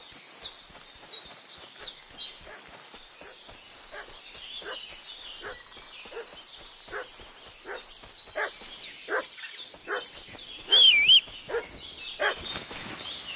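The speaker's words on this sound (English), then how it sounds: "What's that dog making such a fuss about?" A village dog barking in Kingdom Come: Deliverance II, with repeated sharp barks at a moderate distance in an irregular rhythm over faint ambient birdsong, plus a brief high call near the end.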